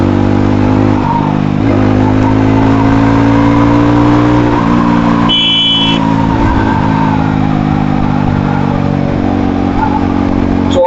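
A Yezdi Roadster motorcycle revs hard through the gears, its loud engine note rising and dropping with each shift and wind rushing over the mic; a brief whine cuts in midway.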